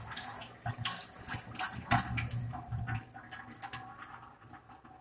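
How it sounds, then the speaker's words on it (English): Food is rinsed under running kitchen tap water, a soft, uneven splashing and gushing close by that swells and fades as the piece is turned beneath the stream. "I'm gonna rinse this off"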